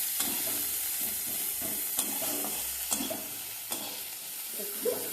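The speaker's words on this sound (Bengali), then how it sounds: "পেঁয়াজটা আমি নাড়ছি" Chopped onions sizzle steadily in a hot pan while a spoon scrapes and stirs them in irregular strokes, with a few sharper clinks against the metal.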